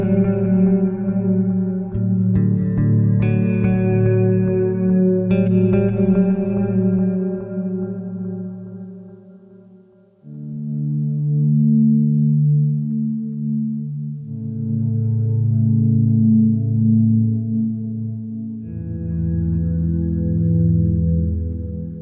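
Bass guitar played through a Strymon Big Sky reverb pedal, sustained low notes and chords blooming into a lush, washy reverb tail that rings continuously, loud and alone with no talking.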